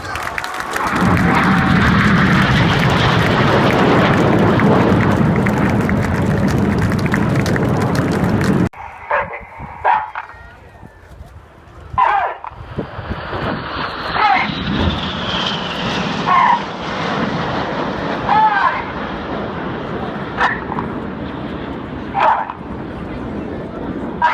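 Royal Air Force aerobatic team jets at the Farnborough air show: a loud continuous engine roar that suddenly cuts to quieter, distant jet noise with a rising whoosh, a dog barking intermittently and a voice speaking.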